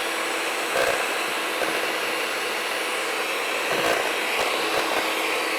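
An electric mixer beats cream with stabilizer for cream puffs, a loud, steady whirring motor running without pause throughout.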